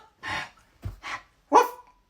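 A dog barks three times in quick, separate bursts, close and fairly loud, with short silences between barks.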